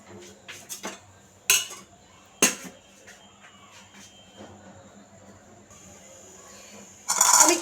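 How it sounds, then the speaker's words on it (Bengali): Metal pot clanks set on a stove, several sharp knocks and scrapes spread apart over a quiet background, ending with a louder rattle of the lid going on; a cooking pot of bottle gourd seeds in water and oil. "আমি চুলায় বসিয়ে দিয়েছি এবং একটা ঢাকনা দিয়ে ঢেকে এটাকে পুরোপুরি সেদ্ধ করে নেব।"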